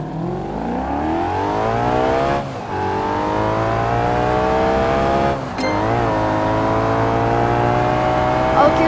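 A car race in a video game: an engine revs and climbs through the gears in long rising sweeps, with two brief drops at the shifts, loud and close.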